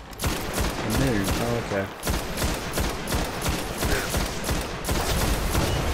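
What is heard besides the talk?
gunfire in a PS4 video game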